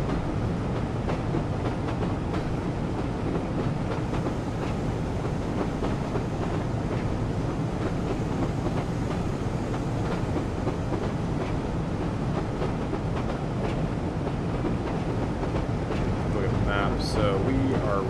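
A train under throttle in Train Sim World 2020 on the West Somerset Railway rumbles steadily along, a continuous loud engine drone with rail clatter and faint clicking running throughout.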